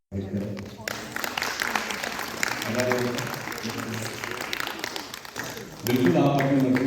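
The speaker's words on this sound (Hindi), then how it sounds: "कोई ताली बजाइए।" Audience applause at a classical dance academy event in Jammu, a steady broad wash of clapping through most of the stretch, swelling louder near the end, with a voice speaking over it.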